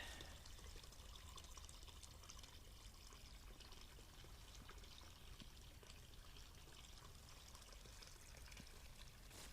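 A steady trickle of running water, continuous and fairly faint, like water seeping and draining through soggy ground with no voices.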